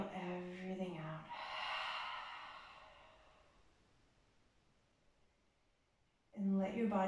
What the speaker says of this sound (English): out of your nose or out of your mouth, exhale everything out